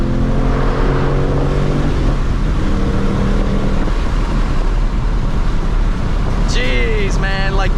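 A Ford Mach 1 Mustang accelerates hard, its engine note climbing loud and close through rapid no-lift gear shifts, with roaring wind and road noise and a brief squeal near the end.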